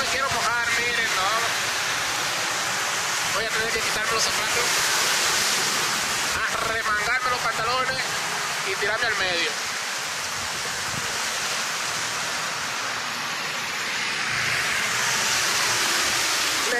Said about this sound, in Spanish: Porque llueve bastante.